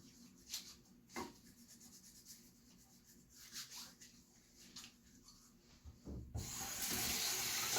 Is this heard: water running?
yes